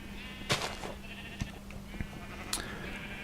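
In a video game, sheep bleat several times in short, separate calls over a faint background, with small clicks between them.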